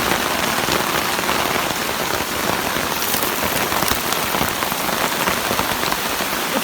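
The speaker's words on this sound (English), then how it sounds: "It's been raining for like 10 seconds and we got lots of water." Steady, loud rain pours down on a surface outdoors during an overnight camping stay, a dense continuous hiss with no voices.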